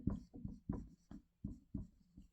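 Pen writing a chemistry equation on paper, a run of short scratchy strokes in an uneven rhythm, close and quiet, with no talking.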